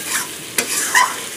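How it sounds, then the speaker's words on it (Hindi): Masala frying in a pan over a medium flame, a loud close sizzle with a couple of sharp scraping stirs of the spoon. "इसका फ्लेम अभी हम यहाँ पर मीडियम पर रखे हुए हैं, थोड़ा सा मसाला को अच्छे से फ्राई कर लेंगे।"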